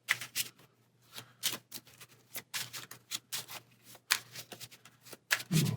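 A deck of playing cards shuffled during a Mad Titan's Shadow card game scenario, heard as quiet, close riffling bursts repeating in an irregular rhythm, with no talking.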